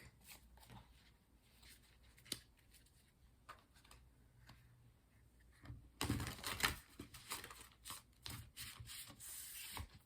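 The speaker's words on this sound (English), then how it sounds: "Do some shuffling so we can pull 7 tarot cards, one for each day of the upcoming week." Soft rubbing and papery shuffling close up, quiet at first, then louder, denser riffling of cards in quick bursts.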